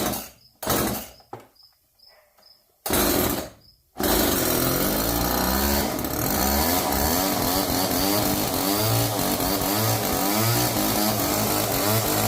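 An old, neglected chainsaw gets a few pull-start attempts, with short sputtering bursts, then fires up and runs loudly and continuously with a rough, revving engine note.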